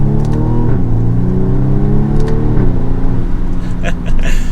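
2022 BMW M235i Gran Coupe xDrive accelerating, a loud, steady engine drone rising in pitch through the gears from inside the cabin, with brief shifts and road rumble underneath.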